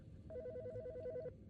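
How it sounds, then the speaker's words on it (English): A telephone rings in an autopsy-simulator horror video game, a steady rapid electronic trill repeating evenly for about a second over a low background hum. "The fucking phone."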